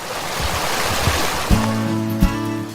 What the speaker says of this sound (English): The soothing sounds of a bubbling creek are part of the soundtrack of life in Fairview.